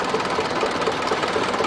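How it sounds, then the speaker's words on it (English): A Fordson Major diesel tractor engine runs steadily up close, a continuous loud mechanical chug with an even, rapid knocking rhythm throughout. "It's a Fordson diesel Major."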